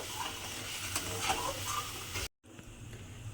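Fish roe chutney with a little sugar cooks in a pan, giving a low, steady sizzle and a gentle stirring patter. The sound cuts out briefly, then the quieter cooking hiss returns.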